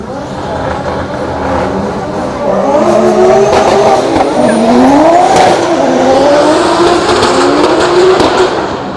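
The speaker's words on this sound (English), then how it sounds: "That was nice drifting." A drift car at a night practice session of a German drift competition, its engine revving hard in rising and falling wails while the tires slide, loud and close throughout.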